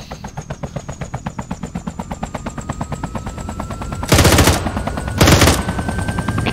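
Rhythmic rapid-fire shots from an Arma 3 weapon, then two louder, denser bursts of gunfire near the end, close and sharp.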